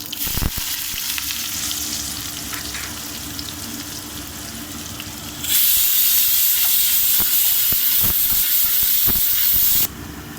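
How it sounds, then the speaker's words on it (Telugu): Onions and curry leaves hit hot oil for an Indian potato fry, a loud crackling sizzle that jumps up sharply midway and holds steady, with occasional stirring clatter and no talking. "ఇప్పుడు ఈ ఆనియన్స్, కరివేపాకు కూడా వేసేసుకుందాము. ఆనియన్స్ వేసేసుకుందాము."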